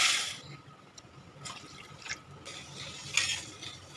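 Water poured into a pan of sugar to make sugar syrup on a gas stove, heard as soft, quiet splashing and dribbling with a few brighter bursts, close and faint, with no talk.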